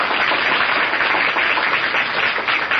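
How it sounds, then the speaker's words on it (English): A studio audience applauds the cast of The Shadow radio show, a loud, dense wash of clapping that holds steady throughout with no talking. "give the cast the volume of applause they deserve"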